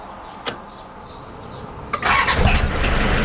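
A warm Toyota Land Cruiser LJ73 in neutral: a couple of sharp clicks, then a quick crank as the engine catches and settles into a loud, rumbling idle close by.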